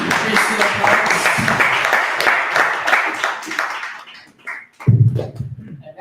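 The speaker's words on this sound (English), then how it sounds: "Please give applause." An audience applauds at the opening of a startup summit in South Korea, with dense sustained clapping for about four seconds that then thins out before a voice speaks.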